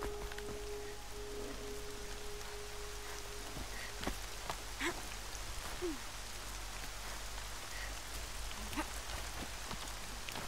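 Steady rainfall in the video game Horizon Zero Dawn, a continuous hiss of drops on surfaces at even, fairly quiet level, with a few faint game tones and no talk.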